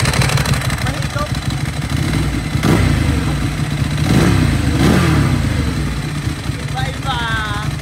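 A Ducati Monster motorcycle with a dry clutch runs close by, its engine rumbling with several sharp rev blips and a rattling clatter, while people talk over it throughout.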